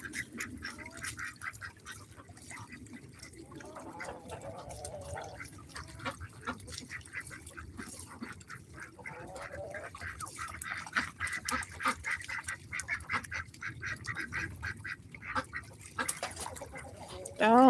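A flock of backyard ducks quacks and honks while bathing in the evening, steady nearby calls with splashy water noise running throughout.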